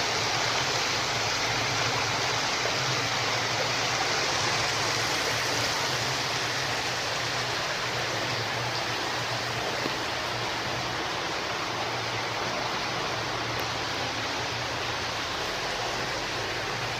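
Creek water flows steadily near an old tunnel, producing a continuous broadband rush that stays close and loud throughout with no voices.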